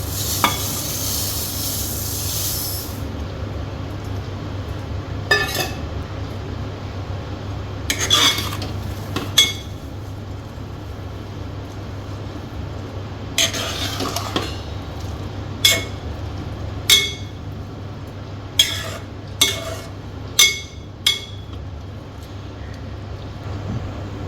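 Vermicelli is stirred into boiling water in a cooking pot, with soft scraping and bubbling, occasional louder clanks, then a run of regular metallic taps and clinks near the end.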